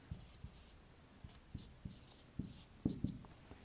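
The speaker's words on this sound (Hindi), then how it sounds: "एक और लिखते हैं हम" Pen writing figures during a math lesson, a series of soft close scratchy strokes and taps in an uneven rhythm, quiet over a faint room hiss, no talking.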